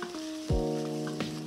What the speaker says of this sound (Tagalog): lagyan natin ng fresh chicken liver. Let's just saute it.